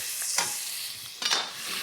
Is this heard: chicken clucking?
no